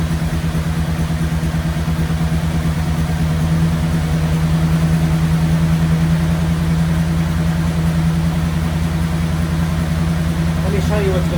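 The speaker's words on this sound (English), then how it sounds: "I don't know if that's how high of an idle I want." A car engine running at a high idle, close and loud, holding a steady, even drone with a constant low hum and no change in revs.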